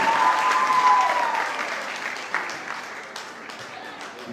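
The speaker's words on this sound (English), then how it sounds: "Give them a big round of applause." An audience at a primary and infant school leaving ceremony applauds the class of 2024 with full, steady clapping that slowly thins and fades, crowd murmur underneath.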